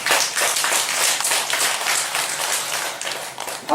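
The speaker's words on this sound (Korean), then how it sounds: "이럴 때는 박수를 쳐주세요" Audience clapping during a lecture on the Diamond Sutra, a dense, close patter of many hands lasting a few seconds and rising and falling slightly before tapering off.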